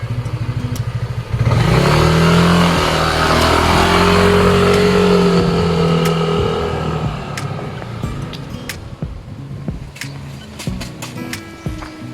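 A motorbike for a food delivery revs up loudly and close, its engine droning and rising in pitch for several seconds before fading into a lower idle with scattered clatter and faint background noise.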